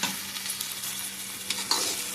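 Masala and onions fry in a pan while being stirred, giving a steady close sizzle with soft scraping and a few light clinks, no voices.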